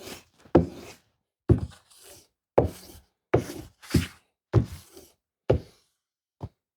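An axe being sharpened on a 600 grit stone: about eight separate rasping strokes at a steady, unhurried rhythm, each a close, dry scrape that fades out, with near silence in between.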